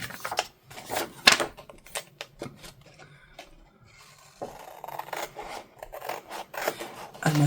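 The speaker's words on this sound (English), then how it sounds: "let me grab a pair of scissors here, and we'll go ahead and trim this one" Scissors snipping and trimming paper for a junk journal craft project, a series of sharp close cuts in irregular bursts with light rustling between them.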